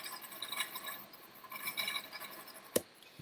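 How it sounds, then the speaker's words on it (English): Glass pieces rattle and clink in small, irregular bursts of light chinking, close and fairly quiet, ending in a sharper single knock, with no voices. "Or glass rattles."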